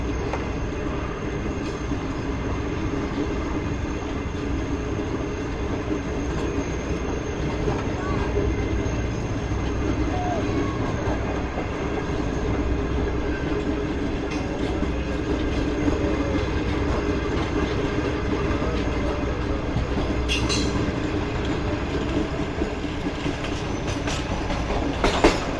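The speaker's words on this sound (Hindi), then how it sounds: "बड़ी धुआंधार एंट्री मारी है ट्रेन ने टंडोवाला यार शहर में" A train rolls into Tando Allahyar railway station in Pakistan's Thar desert, its steady loud rumble and clickety-clack of wheels running continuously, with a faint squeal near the end.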